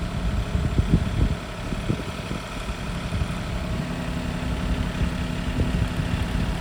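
A tractor engine runs steadily at idle nearby while firewood is loaded, with a few knocks and thumps of wood early on over the constant low drone.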